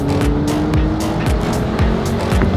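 A McLaren supercar on a test drive, its engine loud and close from inside the cabin, with repeated rising revs and shifts under a steady road roar.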